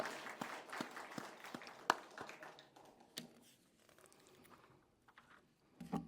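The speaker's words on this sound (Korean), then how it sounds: "두 부부 우리 박수 한번 치십시다" Congregation in a church applauding two married couples, quiet, distant clapping that thins out and fades, ending with a voice.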